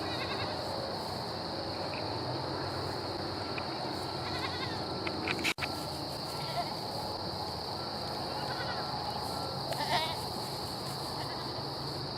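A goat bleats a few times, faint and fairly distant, over a steady high insect drone. A single sharp click sounds partway through as the goat's horns hit something.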